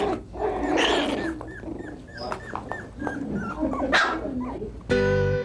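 Several puppies squeak, yip and whimper in a busy cluster of high little cries, close and fairly loud, with no talk over them.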